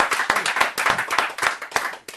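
A small group claps for a musician in a brief burst of roughly ten sharp, uneven hand claps, close and fairly loud, with no talking.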